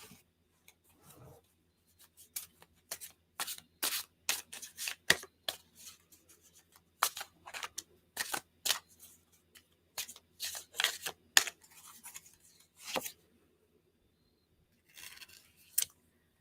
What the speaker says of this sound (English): I'm just going to get a couple of cards for clarity